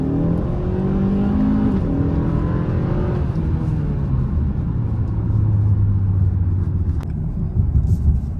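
A 2025 Kia K5 GT accelerates, its engine rumble rising in pitch through a gear and climbing again, heard steadily from inside the car at moderate loudness with no talk.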